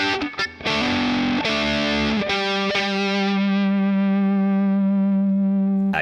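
A distorted electric guitar plays a short lick from a solo, with a few quick picked notes and a bend before settling into a long sustained note that rings out loud with no voices.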